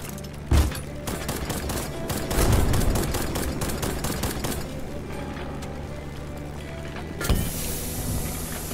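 Rockets fired at a structure in the video game Black Skylands give two sharp, loud blasts a few seconds apart over a dense, continuous roar of engine and battle noise, with no talking.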